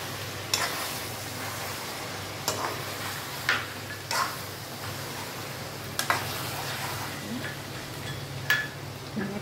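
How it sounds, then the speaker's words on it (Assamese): Chicken coated in turmeric stirred in a pan for an Assamese chicken dish, with a few sharp scrapes and knocks of a utensil spaced every couple of seconds over a low steady kitchen hum. "ধুনীয়াকৈ লৰাই দিলোঁ।"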